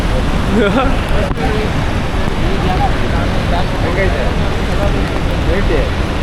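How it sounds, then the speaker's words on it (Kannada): Heavy rain pours steadily at Jog Falls in fog, a dense continuous wash of hiss and patter with a few faint voices underneath. "ಫುಲ್ಲು ಮಳೆ"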